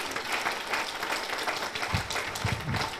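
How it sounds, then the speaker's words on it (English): A round of applause from the audience at a hospital award ceremony and gala dinner, a continuous crowd clapping that stays even and fairly loud throughout. "I think you deserve to give yourselves a round of applause"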